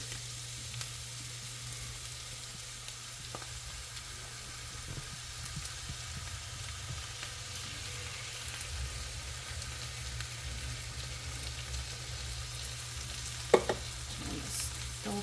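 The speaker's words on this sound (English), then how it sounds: "Alright, the peppers and the meat are cooked up. Give this another little stir here." Peppers and ground meat frying in a pan for sloppy joes give a steady low sizzle with a few scattered scrapes of stirring, plus one sharper clink near the end. No one talks.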